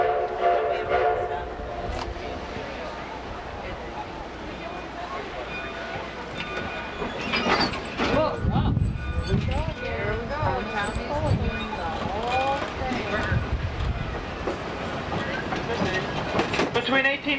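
A train rolls along a Colorado mountain railroad near Interstate 70, with a steady rumble and the clatter of wheels on rails under someone narrating close by, plus a brief whistle.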